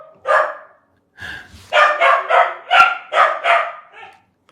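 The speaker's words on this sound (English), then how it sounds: "do you hear my dog going crazy?" A dog barks repeatedly indoors in a fast, loud series of close yelps, with a short gap after the first bark and then a run of six or so barks that trails off.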